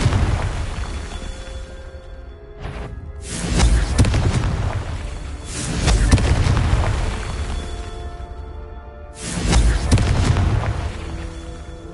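Confringo spell blasts go off in the Hogwarts Legacy video game: three loud, close booming explosions with rumbling tails, around the third, sixth and tenth seconds, with a sharp crack just before the first.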